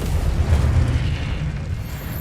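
Confringo spell blast in a Harry Potter video game: a continuous deep, rumbling explosion that stays loud and sustained for about two seconds with no voices.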